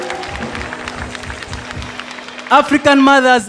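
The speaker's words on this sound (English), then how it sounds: "a round of applause for yourself" Audience at a comedy show applauding and cheering at a steady, dense level, with a voice speaking over the crowd noise near the end.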